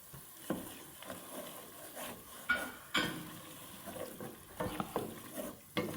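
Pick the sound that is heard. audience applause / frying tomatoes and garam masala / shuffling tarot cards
frying tomatoes and garam masala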